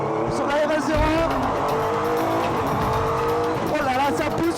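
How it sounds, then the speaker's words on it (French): Renault Sport RS01 race car lapping the Nürburgring, a loud onboard engine note rising and falling through gear changes with tire squeal, while a voice talks over it. "C'est parti pour ce tour de folie sur la RS01."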